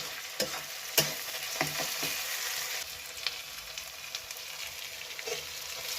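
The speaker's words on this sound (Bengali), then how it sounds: "আর এটাকে তেল দিয়ে প্রথমে ভালো করে কষে নেব।" Masala with tomato and chilli fries in oil in a pan for a chicken recipe. A soft, constant sizzle runs throughout, broken by sharp scrapes and knocks as it is stirred.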